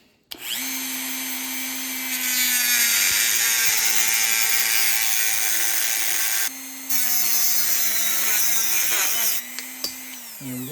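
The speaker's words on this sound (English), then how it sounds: "To get a clean cut, I'm just going to use a Dremel here and then cut out 1 inch." A Dremel rotary tool whines steadily as it cuts an inch off a metal piece on a 1997 Cobra engine job, a loud continuous high grinding that briefly dips twice before stopping.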